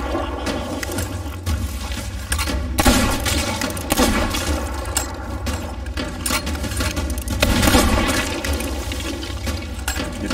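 Repeated gunshots ring out in a seafaring video game, a string of crisp cracks scattered over ten seconds against a steady, busy background of game noise.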